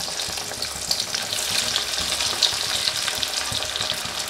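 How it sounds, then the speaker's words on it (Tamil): A cutlet deep-fries in hot oil, giving a continuous, close crackling sizzle with small spattering pops throughout and no voices. "ஆயிலில் போட்டு ஃப்ரை பண்ணி எடுத்துடலாம்"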